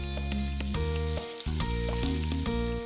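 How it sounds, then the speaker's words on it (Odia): Fish cooks in Amul butter on a grill pan, giving a continuous close sizzle with tonal hum and several clicks and taps from handling, loud and steady without speech. "ମାଛକୁ ପାତ୍ରରେ ରଖନ୍ତୁ ଏବଂ ଏହାକୁ କିଛି ସମୟ ରାନ୍ଧି ହେବାକୁ ଦିଅନ୍ତୁ।"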